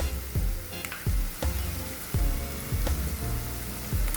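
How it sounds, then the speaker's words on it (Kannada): Curry leaves and turmeric fry in a pan with a steady close sizzle, broken by repeated soft knocks and stirring strokes roughly every half second. "ಕರಿಬೇವು ಹಾಕೊಂಡು ಫ್ರೈ ಮಾಡ್ತೀನಲ್ಲ"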